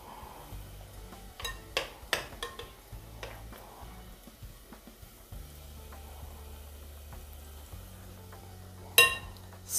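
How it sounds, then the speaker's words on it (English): Pumpkin fritters fry in a pan with a soft, steady sizzle, broken by a few sharp clinks of utensils and a louder knock near the end. There is no talking. "So let's take a look at our pumpkin fritters frying."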